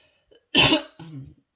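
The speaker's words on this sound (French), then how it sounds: "je suis désolée, je tousse beaucoup" A woman coughs sharply once, then follows with a shorter, rougher cough and a throaty tail, close and fairly loud.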